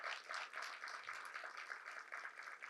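University lecture audience clapping together at a distinguished lecture, a continuous, fairly uniform crackle of many hands heard from a distance, soft and steady with no speech.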